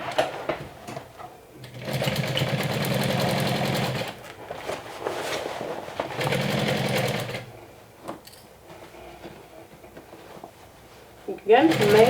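Several bursts of a sewing machine stitching a seam on a sewing project, close and steady in rhythm with pauses between runs, and a brief clatter near the end.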